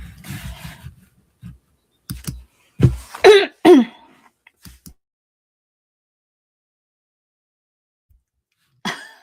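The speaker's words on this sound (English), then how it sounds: "So I mute it to clear my throat" A person clears their throat and coughs several times in short harsh bursts, close and alone in a quiet room, with a final brief cough after a long silence.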